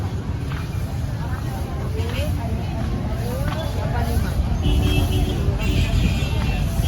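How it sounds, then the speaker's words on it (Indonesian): Congested traffic on Malioboro street in Jogja, with tour buses and cars rumbling close by, engines droning steadily beneath street hubbub and people talking nearby. "Ini udah mulai macet nih."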